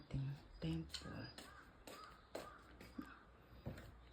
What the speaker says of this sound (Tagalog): Narinig niyo yung uwak?